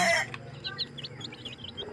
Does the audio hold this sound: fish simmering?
no